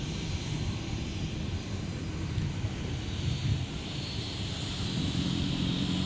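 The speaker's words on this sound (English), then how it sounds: "And now on the move, we have Delta 1542 off to Sin City, USA." A Delta airliner taxis at Minneapolis–Saint Paul airport, its engines a steady low rumble and whine heard from a distance, constant throughout, with light wind noise and no talking.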